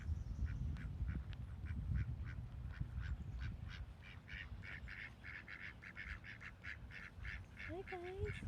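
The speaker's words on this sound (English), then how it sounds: "wake up the ducks." Ducks on a morning walk by the water quack in a rapid, rhythmic series of nasal calls, fairly close, over a low background murmur, with a couple of rising honk-like calls at the end.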